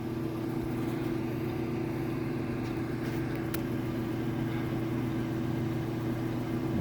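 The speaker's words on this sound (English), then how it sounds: "I'm going to turn the brake lathe on" A brake lathe set up to turn a brake drum runs with a steady, even mechanical hum and low motor drone, constant throughout with a couple of faint clicks and no talking.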